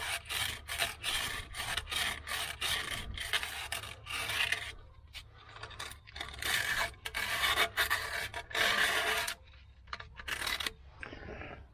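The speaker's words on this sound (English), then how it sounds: "Grab a little piece of sandpaper. Just kind of clean this up a little bit." Sandpaper is rubbed by hand over a part during a 1968 Chevelle Nomad rear axle job, making loud, close, rhythmic rasping strokes in quick bursts with short pauses between them, with no speech.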